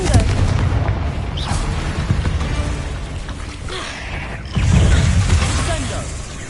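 A Confringo fire blast in Hogwarts Legacy, a dense, rumbling burst of booms and crackling impacts, with a second heavy thump partway through.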